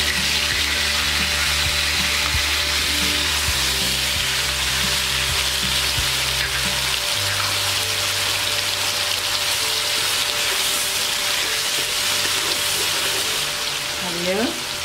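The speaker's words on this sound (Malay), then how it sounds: "kita akan tumis bahan-bahan untuk buat sos" Garlic and onions sautéing in a pan for a sauce, a steady, close frying hiss with soft stirring under a low background hum.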